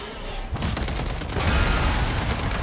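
A volley of gunfire opens up on the Omega Abomination in MW3 Zombies, sudden and dense after a brief lull, then continues as sustained rapid shots with heavy low-end thumps.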